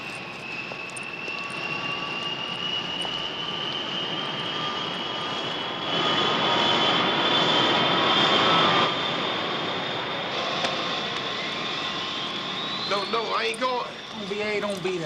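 Steady airplane engine drone heard from inside a cabin during flight, a constant hum with a faint high whine, continuous throughout, with a voice talking briefly near the end.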